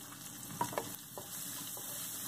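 Ginger garlic paste with slit green chillies frying in a pan for a Tamil egg curry, a soft, quiet sizzle with a couple of brief stirring clinks near the start.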